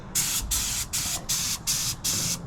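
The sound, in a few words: spray gun painting ATV rims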